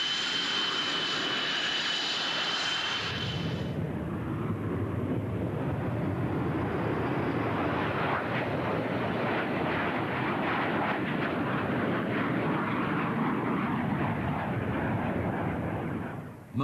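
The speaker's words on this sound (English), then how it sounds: "first Hornet flight begins" A Hornet jet aircraft flies past with a loud, steady roar that swells in after a few seconds and holds broad and powerful to the end, with no talking.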